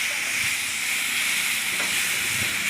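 Sugar sizzling steadily in a pan while being stirred for mango pulao, a constant loud hiss with a few faint scraping knocks and no talk.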